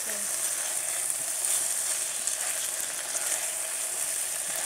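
Bacon bits frying crisp in a pan during outdoor Alpine adventure cooking, a steady, even sizzle that hisses without pause throughout, close and fairly loud.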